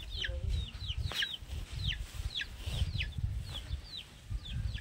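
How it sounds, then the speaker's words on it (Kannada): Chickens with their chicks forage around a home, the chicks giving rapid, repeated high peeps over low, soft clucking close by, with no talk. "ಇನ್ನೊಂದು ಮರಿ ಎಲ್ಲಿ ಕೋಳಿ ಮರಿ?"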